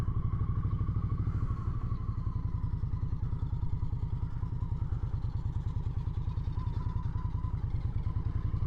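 A Victory Octane motorcycle rumbles steadily through a slow U-turn, its engine thudding in a fast, even, loud pulse up close for the whole stretch with no noticeable revving, alone without any talking.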